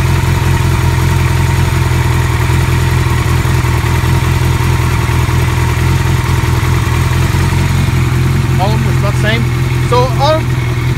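A 1982 Kawasaki KZ1000 motorcycle engine idles steadily and loudly close by, a constant low rumble throughout, with brief faint chirping sounds near the end.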